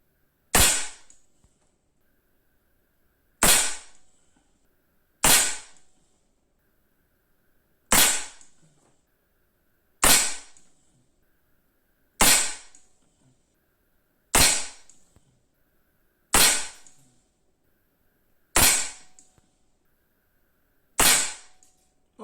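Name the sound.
Artémis CP2 air pistol shots with RWS Meisterkugeln pellets at 10 m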